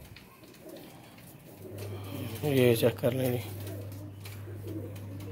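Sialkoti pigeon coos nearby, a short burst of throaty rolling calls in the middle, over a steady low hum and faint background noise, with someone speaking briefly.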